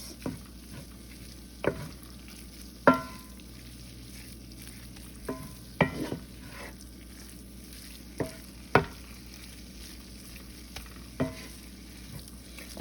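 Flour-and-fat roux for a white gravy, cooked in a pan and stirred with a utensil, giving a steady soft sizzle broken by repeated scraping strokes every second or two, close and alone.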